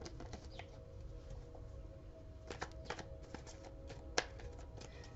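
A deck of tarot cards is shuffled in soft, quiet riffling bursts with occasional sharper card snaps, alone against a faint steady hum.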